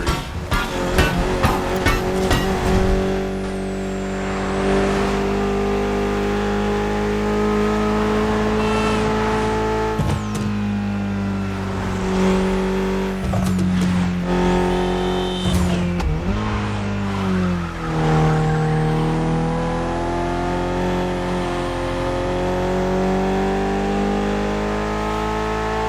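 A car's engine revs and roars in The Crew Motorfest racing game, with rising and falling pitch, gear changes and bursts of tyre squeal, loud and continuous throughout.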